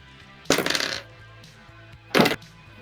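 A handful of dice clatters across a surface in two separate bursts, the first a longer rattling spill and the second a shorter clatter, over a low background hum.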